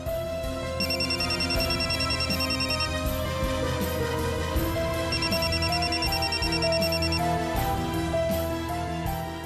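A telephone rings in a domestic drama scene, two bursts of electronic ringing under a continuous background music bed, fairly clear and steady.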